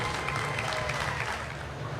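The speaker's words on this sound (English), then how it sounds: "How about a nice round of applause for our major sponsors and supporters for this special night" Sustained audience applause at a Food City Family Night race event in Knoxville, Tennessee, a steady dense wash of clapping from a large crowd filling the whole stretch with no break.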